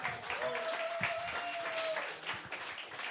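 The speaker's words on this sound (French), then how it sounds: "Applaudissez la poétesse," Audience applause for a poet at a slam poetry tournament, a steady patter of clapping filling the room throughout, with a sustained tone running under it.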